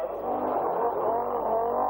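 A rally car roars past on a special stage of the 1981 RAC Rally, its engine note loud and close throughout a brief pass.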